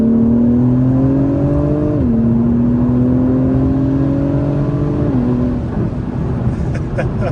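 A 2021 Acura TLX Type S in sport mode pulls hard at night, its engine whirring and rising steadily in pitch through two upshifts, then easing off near the end, loud and close.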